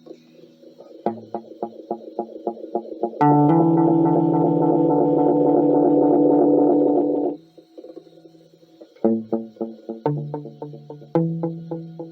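Plucked guitar notes through a Guyatone EM-606 tape echo and 1976 Roland VX-33 amp trail off in quick, evenly spaced echo repeats, broken by a long sustained chord, then more rhythmic repeating echoes.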